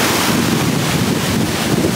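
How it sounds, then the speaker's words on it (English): Ocean waves at a Cancun beach make a loud, constant roar of surf mixed with heavy wind buffeting close to the microphone, with no talking. "but look at these waves, guys."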